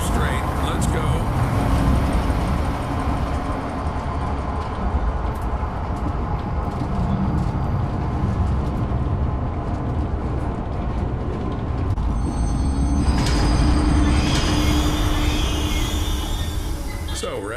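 A train starts and rolls along inside the horror zoo game Zoochosis, heading to the giraffe enclosure: a steady, loud rumble of wheels and motion fills the whole stretch, with rising mechanical whine and clatter near the end.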